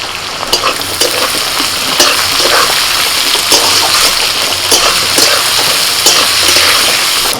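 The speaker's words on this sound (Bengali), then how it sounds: "ফোড়নটা হয়ে গেলে দিয়ে দিচ্ছি পেঁয়াজ কুচি দিচ্ছি চেরা কাঁচা লঙ্কা" Chopped onions and slit green chillies frying loudly in hot tempering oil with cardamom, cinnamon and cloves for khichuri, a dense continuous sizzle with occasional stirring scrapes, close and steady, no voices.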